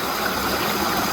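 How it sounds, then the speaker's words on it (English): A waterfall pours in a steady, unbroken rush of water, dense and close, with no voices over it. "Waterfall, it's all clear."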